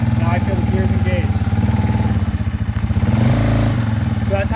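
A Yamaha TW200 dual-sport motorcycle engine chugs steadily up close as it pulls away slowly in first gear, with a brief rise in revs partway through.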